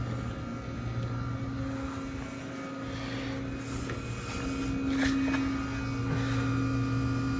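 A 2004 Trane XL19i 2.5-ton heat pump runs in cool mode, a steady low hum and whirring fan drone heard close up, with faint clicks and rustles over it.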